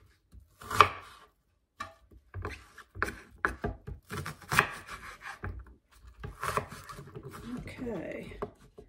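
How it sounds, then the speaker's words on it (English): A knife chops half an onion into rough chunks on a board, giving a scatter of crisp, uneven cuts under a person talking throughout. "I'm going to just chop half of this onion, and I'm just gonna chop it in chunks"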